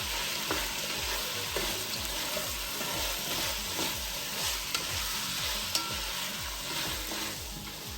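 Pork minudo fries in a pan on lowered heat, a soft constant sizzle paired with a quick, regular rhythm of spoon strokes pushing the meat around, close and fairly quiet.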